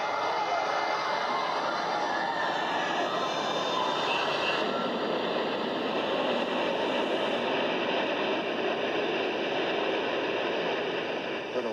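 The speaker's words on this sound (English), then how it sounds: "The North Tower came crashing down." The North Tower of the World Trade Center collapsing on 9/11, a dense, continuous roaring rumble that holds steady and loud from start to finish with no pauses.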